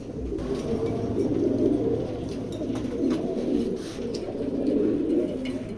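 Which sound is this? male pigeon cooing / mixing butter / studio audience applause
male pigeon cooing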